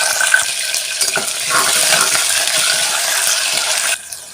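Green chillies frying in hot oil with cumin and a bay leaf, the first step of mutton paya, giving a loud, steady, close sizzle that cuts off abruptly near the end.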